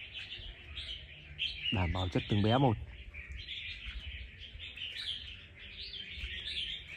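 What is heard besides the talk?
red-whiskered bulbul (chào mào) birds chirping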